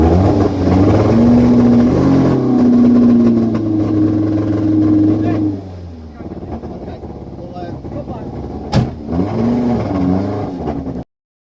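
A misfiring 1.6-litre race car engine held at steady high revs during a trackside noise test at Brands Hatch, a loud sustained drone that drops off and then blips briefly before cutting out, with voices audible.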